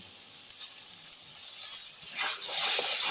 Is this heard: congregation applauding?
no